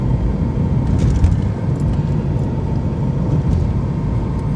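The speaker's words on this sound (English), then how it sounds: "If you listen to the recording, I just shifted into second at less than 20 miles an hour." A car fitted with a water vapor injection system accelerates and shifts into second gear under 20 mph, giving a steady, close low engine drone with no obvious break at the shift.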